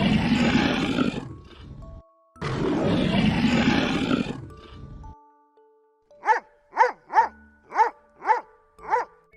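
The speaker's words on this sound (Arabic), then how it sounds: "زئير الأسد" A lion gives two long, deep, rasping roars close up, each lasting about two seconds. After a brief pause, a quick run of sharp dog barks follows.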